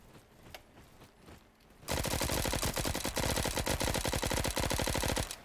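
Rapid automatic gunfire from the Bad Business shooter game erupts loud and close after a couple of seconds of near quiet, then hammers on in a dense, sustained burst of shots through to the end.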